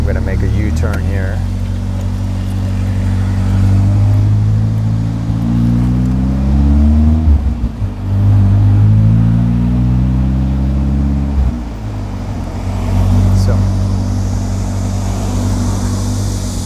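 A 1984 Hyundai Pony 2 drives along with a steady, loud engine drone, its pitch stepping up through the gears and dipping briefly as it shifts and slows for a U-turn.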